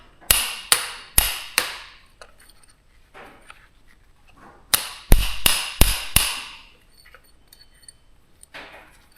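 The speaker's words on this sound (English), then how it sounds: "They've been coming out with the extractor sockets and a lot of hammering" Metal hammer blows on EZGO TXT golf cart suspension parts with extractor sockets in a garage, two quick bursts of four sharp ringing strikes each, separated by quieter tapping and shuffling.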